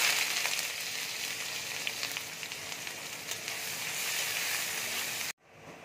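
Chopped onion hitting hot oil, a bright, loud, close sizzle that holds steady for several seconds before cutting off abruptly.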